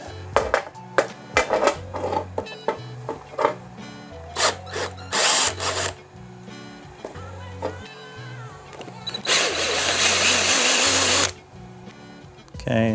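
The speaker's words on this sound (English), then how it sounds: "Now the step bit." Power drill driving a step bit through the plastic wall of a Fermzilla fermenter, short stuttering bursts of cutting and motor whine, then a longer sustained grinding run, with a voice speaking between bursts.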